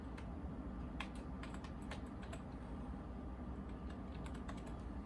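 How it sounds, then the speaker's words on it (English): Keys clatter on a computer keyboard as a password is typed on a Mac running OS X, two quick bursts of light, crisp taps heard close over a steady low background hum, with a pause between them. "So I will go ahead and put in a password now."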